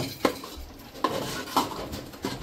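A cooking pot clatters with a few light metallic knocks and taps while a chole puree roasts on the stove, soft and close with quiet sizzling underneath.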